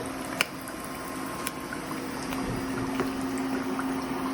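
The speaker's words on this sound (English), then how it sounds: "I'm frying like 3 of them at a time." Oil sizzles and bubbles steadily as chicken cutlets fry three at a time, a continuous crackling hiss punctuated by a few sharp pops, fairly close and moderately quiet.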